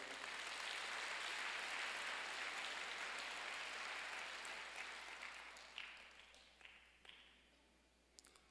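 Congregation applauding in a church during a Wednesday worship service, a dense crowd clapping that starts full and steady, then thins and fades out, leaving a few scattered late claps.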